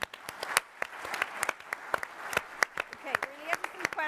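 Conference audience at Code 2022 applauding, scattered irregular claps rather than a dense ovation, fairly faint, with a voice speaking over the clapping near the end.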